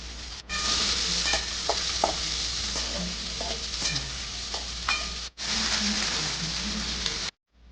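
Small onions (shallots) sautéing in a pan for a mushroom gravy, a steady close sizzle with scraping stir clatter throughout, broken by a brief pause partway through and ending abruptly.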